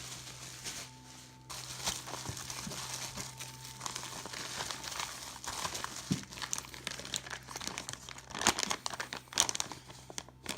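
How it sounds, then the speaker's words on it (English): A Ziploc plastic bag is handled close up, giving off irregular crinkling and crackling bursts that grow busier and louder toward the end. "Ziploc bag."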